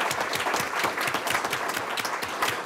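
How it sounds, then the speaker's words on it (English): Steady applause from an audience at a school district governing board meeting honouring student leaders, a sustained wash of many hands clapping at moderate distance with no talk over it. "let's give him another round of applause."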